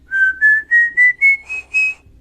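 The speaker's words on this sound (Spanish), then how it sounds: "siguiera lanzando sus sombríos silbidos, un sonido terrorífico que se asemeja a la escala musical" A single whistler gives seven clear, separate notes that climb slowly in pitch like a scale. Each note is loud and near, with short gaps between them, evoking the eerie whistle of the Silbón legend.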